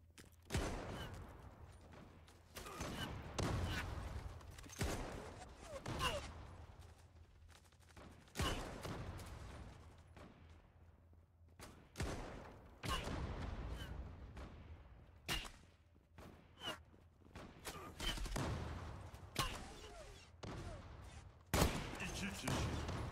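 Rapid bursts of gunfire in the online shooter Zula during a sniper fight in a closed parking-garage map, loud and near, repeating throughout with short pauses between volleys.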